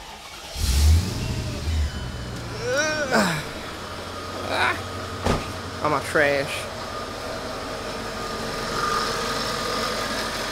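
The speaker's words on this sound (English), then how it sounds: "we're going to try to do the first fire up in the car" Mercedes E55 AMG engine cranking and firing up after crank pulley work, then settling into a steady idle with a low drone, while nearby voices talk over it.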